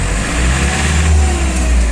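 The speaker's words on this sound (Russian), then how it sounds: "мотор просто прекрасно реагирует на педаль газа" A large, powerful mini tractor with a cab has its engine revved on the throttle, giving a loud, close, low engine roar that swells and rises in pitch over a short burst.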